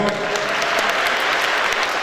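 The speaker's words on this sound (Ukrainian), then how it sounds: "Оплески, будь ласка." A crowd applauds at the Ukrainian Armlifting Cup in Kyiv. It is a brief, loud burst of steady clapping.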